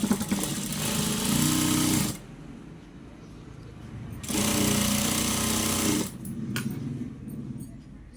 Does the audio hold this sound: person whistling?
no